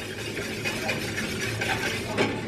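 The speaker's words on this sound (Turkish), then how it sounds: "İyice bunu karıştıralım ilk önce." A spoon scrapes and swirls through a simmering peppered mixture in a home kitchen pot, a soft, continuous stirring with faint bubbling and clinks.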